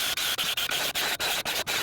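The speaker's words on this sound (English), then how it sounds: "we'll take a drill with a wire wheel and just go around and clean up the whole surface" A drill-driven wire wheel scours the rusty front brake hub face of a 2013-2020 Ford Fusion, a steady close abrasive rasp broken by quick regular dips as the brush catches and lifts around the surface.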